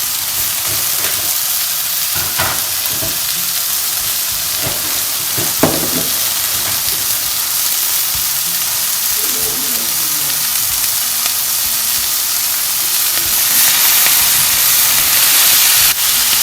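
Eggs with mixed vegetables, green peppers and tomatoes, sizzle and hiss steadily in a hot pan, with occasional stirring clatter and a louder surge of frying near the end.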